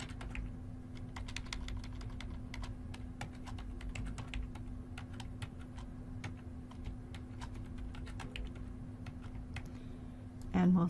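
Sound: typing a password on a computer keyboard

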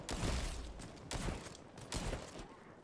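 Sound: shotgun fire in the video game Hawked

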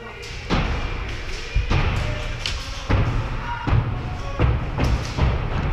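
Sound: airsoft Reapers slamming axes on a wall

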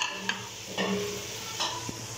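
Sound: potatoes frying and being stirred in masala

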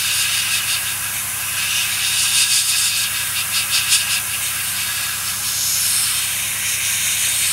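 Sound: airbrush spraying Tamiya XF1 flat black paint

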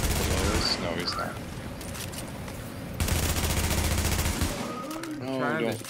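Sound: gunfire from the video game The Division, shooting at a tank

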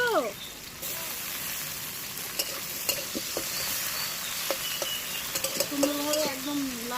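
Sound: potatoes being fried in a pan

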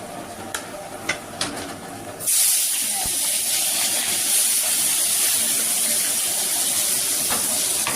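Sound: dry red chillies and bay leaves sizzling in hot oil

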